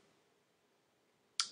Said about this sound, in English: Here, we'll just like click on one here.